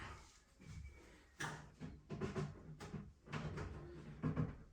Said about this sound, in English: Close the door onto the centre post